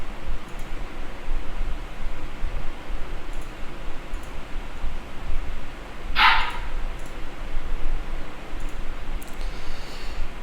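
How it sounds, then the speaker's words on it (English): A single short dog bark lands once, brief and moderately close, against steady background noise with no other sounds around it. "Dog did a woof."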